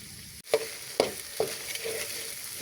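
Goat brains sautéing in a pan of cooked-down spices, a soft steady sizzle broken by three sharp stirring scrapes at regular intervals, close and alone.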